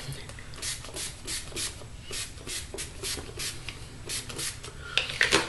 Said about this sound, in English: And I just mist my face and I let it kind of dry a little bit